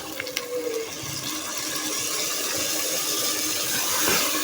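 Half a cup of water is poured into a pan of keema and peas, giving a steady liquid rush with a faint sizzle beneath it, close and continuous for several seconds, with no talk.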